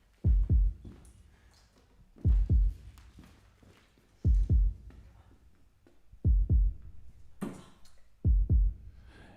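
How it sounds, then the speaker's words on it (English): A heartbeat thumps in the background of a darts competition broadcast, a steady lub-dub pair of deep, loud thuds repeating about every two seconds, with no other sound between beats. "If you can hear that heartbeat in the background,"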